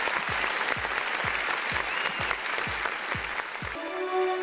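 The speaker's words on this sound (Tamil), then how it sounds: "உங்களுடைய பலத்த கரகோஷத்துக்கு மத்தியில்" Sustained applause from an audience at a Tamil political stage event as a party leader is welcomed onstage, dense clapping throughout with rhythmic low thumps, cutting off near the end into a steady tone.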